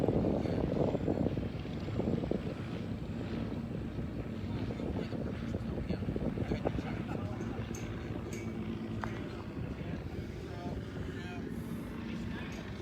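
A Stearman biplane approaches to land at a fly-in, its propeller engine a steady low drone under wind buffeting, while people nearby talk.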